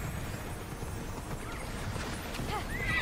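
Soft, rapid hoofbeats of a galloping horse in the video game Immortals Fenyx Rising, with a faint neigh near the end, low and steady under a muffled background.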